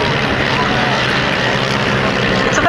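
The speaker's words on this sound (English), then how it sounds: "It's a very well-known aeroplane" A propeller-driven warbird passes at a 1990 air show at West Malling, a loud, steady broadband engine drone that swells toward the end, heard up close with no talk over it.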